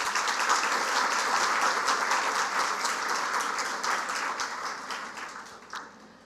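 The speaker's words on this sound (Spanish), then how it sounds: "para quien pedimos un fuerte aplauso." Sustained audience applause for guest René Fortunato, dense clapping that stays strong and then slowly fades toward the end with no voices over it.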